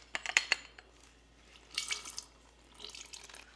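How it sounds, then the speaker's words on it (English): Lime and orange juice is squeezed into a blender bottle, giving faint wet drips and small splashing bursts in short clusters, close and quiet, with no talking. "I'm going to squeeze the juice into the blender"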